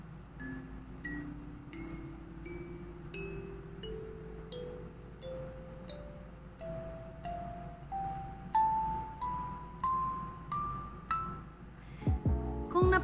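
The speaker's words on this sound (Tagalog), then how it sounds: "Ngayon, test na natin yung tunog ng Kalimba." A kalimba plucked note by note in a rising scale, each tine ringing with a bright sustained chime, ending in a quick cluster of mixed tines.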